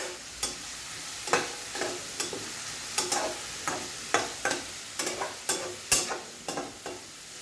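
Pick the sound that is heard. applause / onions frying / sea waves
onions frying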